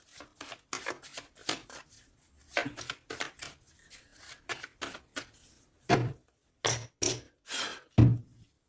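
Tarot oracle cards are cut and shuffled by hand, giving close, crisp riffling bursts and sharp slaps in an irregular rhythm with short quiet gaps. No voices are heard.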